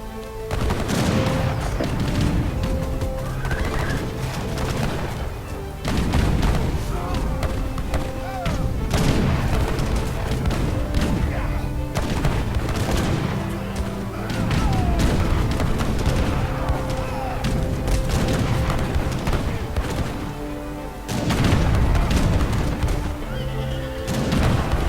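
Culverin cannons and an Abus gun fire in a real-time strategy battle, with repeated booming blasts and crackling gunfire packed densely throughout, horses whinnying, and a commentator talking over the din.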